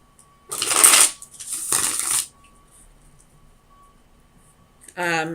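Tarot cards being shuffled in two brisk riffling bursts, close and crisp, followed by quiet pauses and a short burst of talking at the end.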